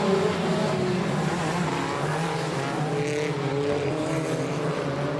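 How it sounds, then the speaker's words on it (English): A pack of stock cars roars away at the start of a race, multiple engines droning and rising together in a loud, continuous blend heard from trackside. "Green flag flies, we are racing."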